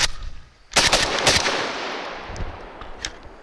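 Three gunshots from a Century Arms Draco rifle: one sharp, loud blast, a second close behind it, then after a longer ringing decay a third fainter crack, all outdoors with no talking.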